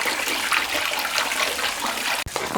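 Carrots are rinsed under a running tap, giving a steady broadband splashing rush of water that stops abruptly near the end.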